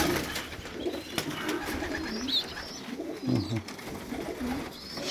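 Pigeons in a dovecote give soft, repeated low coos at close range, with a few brief higher chirps over a steady, quiet background.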